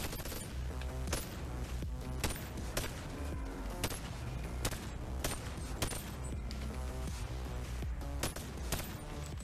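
An AK-47 type rifle fires in the VR game Bonelab on Quest 2, loud rapid shots in continuous bursts throughout.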